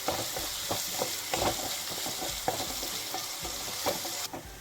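Chopped onions sautéing in a hot pan for gobi manchurian, a steady close sizzle with soft stirring scrapes at irregular intervals, no voices.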